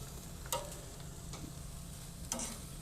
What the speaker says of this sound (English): on the chicken, the skin's starting to sizzle up a little bit.